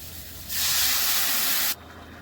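Water hits sautéed masala in a hot pan while cooking a prawn and elephant-foot yam curry, giving one sudden loud sizzling hiss that holds for about a second before cutting off sharply.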